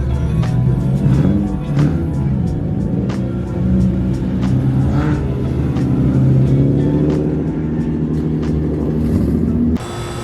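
Several cars leaving a car show rumble and rev nearby as they pull away one after another, engines droning steadily with a few louder accelerations.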